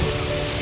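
An outdoor shower pours large, heavy drops of water in a steady rain-like patter, close and continuous for a brief moment.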